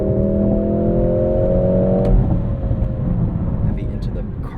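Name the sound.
Mercedes-AMG GLC 63 S E Performance accelerating in race mode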